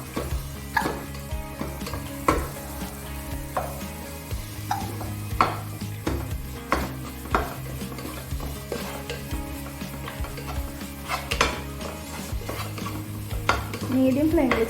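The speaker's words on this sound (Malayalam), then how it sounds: "അതിനകത്തോട്ട് ഒഴിച്ചിട്ട് നന്നായിട്ട് മിക്സ് ചെയ്യണം" A spoon stirs a coconut milk mixture in a pot of fish biriyani. It makes repeated scraping and clinking strokes against the metal over a soft sizzle, close and fairly loud, with no one talking.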